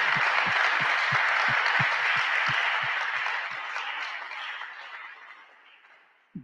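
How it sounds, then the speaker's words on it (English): Sustained applause from a crowd, steady clapping that gradually thins and fades toward the end. "Can we give David a round of applause?"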